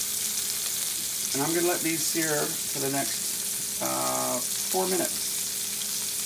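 Burgers sear in a pan on a stovetop with a steady, close frying sizzle, while a person speaks over it in several short phrases.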